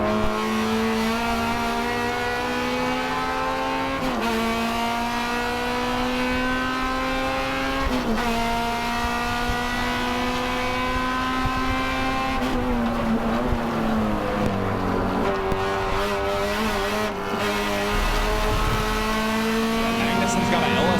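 Race cars roaring in a racing video game, including a BMW fitted with an LS3 engine: loud, continuous high-revving engines with rising and falling pitch as gears shift, tyres squealing, and commentators talking throughout.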